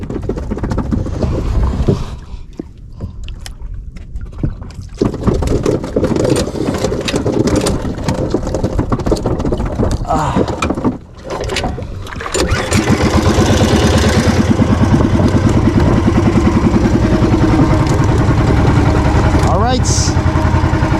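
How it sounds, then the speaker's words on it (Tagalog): A small fishing boat's engine cranks, catches and settles into a loud, steady close-up drone. A voice talks over parts of it. "Papaandar lang tayo ng bangka."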